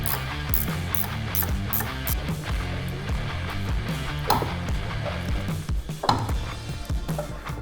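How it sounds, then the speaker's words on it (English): A ratchet wrench tightens a motorcycle floorboard bolt during a highway peg mount install, with a steady run of close mechanical clicks and metallic knocks and no talk heard. "We're gonna go ahead and tighten this floorboard bolt down."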